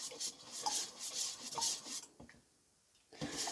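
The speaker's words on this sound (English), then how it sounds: "So you're going to stir all that in." Nail strengthener being stirred inside its small container, a scraping, rasping rub that repeats in short strokes at close range, then briefly pauses before resuming.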